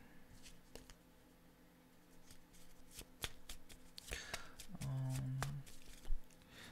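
Tarot cards being shuffled and handled during a fortune-telling reading, with crisp riffling and scattered snaps and taps up close, building to a busier flurry of card sounds near the end.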